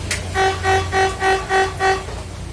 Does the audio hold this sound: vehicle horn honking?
yes